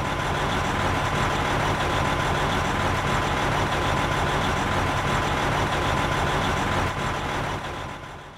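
Truck engine idling steadily during a cylinder cutout test with the third cylinder disabled, a constant low rumbling drone that stays even throughout and fades slightly at the end.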